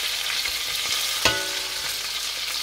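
Onions sizzle in a pan with browned chicken thighs for a cider chicken dish, a steady close frying hiss broken by one sharp clatter of stirring partway through.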